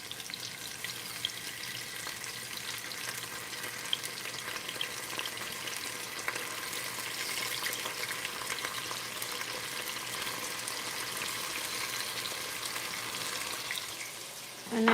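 Tomatoes fry in a pan for a seitan dish, giving a steady close crackling sizzle that holds evenly throughout with no talk over it.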